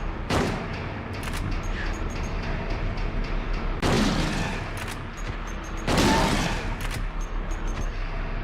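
Three loud, separate shotgun blasts from Silent Hill 2 on the PS2, spaced a few seconds apart, each a sharp boom with a short decaying tail over quiet game ambience.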